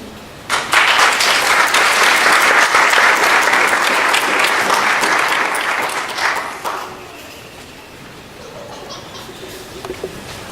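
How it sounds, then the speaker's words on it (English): Loud crowd applause at an American Indian regalia showcase, dense and sustained for about six seconds before fading into quieter room noise with a few scattered claps. "Can we have another round of applause?"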